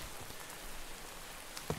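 Steady rain falls in the blocky world of Minecraft, a soft continuous hiss of drops on surfaces with no talk, plus a brief louder tap near the end.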